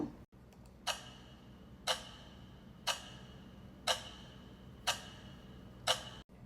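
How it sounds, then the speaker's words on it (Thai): Clock ticking in an audio drama, six evenly spaced crisp ticks about once per second, clear and close against near silence. "พร้อมกับเสียงนาฬิกาดัง"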